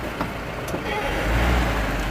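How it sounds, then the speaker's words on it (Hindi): A Mahindra Bolero Pickup with a vehicle speed sensor fault (code P0501) starts and pulls away, a low engine rumble swelling steadily, close by and fairly loud. "तो इसको गाड़ी को करते स्टार्ट, और गाड़ी को मैं करता हूँ ड्राइव"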